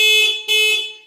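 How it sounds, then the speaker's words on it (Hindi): Horn on an electric scooter (e-bike), two loud, high, sustained electronic blasts close by, split by a brief gap. "काफ़ी हाई इसका हॉर्न है, इसकी साउंड है।"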